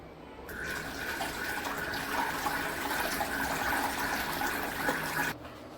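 Water runs and splashes steadily as soaked, washed wheat is strained, a continuous close pouring rush lasting about five seconds that starts and stops abruptly.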